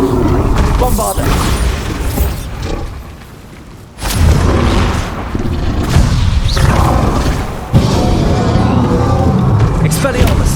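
Bombarda explosion spells cast in Hogwarts Legacy, loud booming blasts and roaring rumbles in a dense, chaotic battle, with a sharp burst near the middle and voices shouting spell names over the din.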